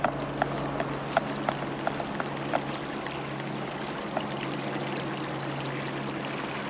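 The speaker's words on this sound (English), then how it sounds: "Yeah, there's a waterfall over here, I can hear it." Rushing water from a waterfall outdoors, a steady broadband wash at moderate distance with scattered light clicks and knocks from someone moving nearby; no talk.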